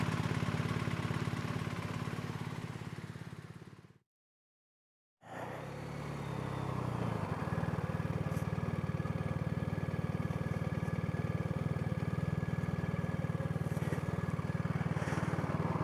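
A BMW R1250 RT motorcycle is ridden along a road, its engine droning steadily under heavy wind rush. The sound drops out completely for about a second, then the engine and wind return at full strength and stay loud and continuous to the end.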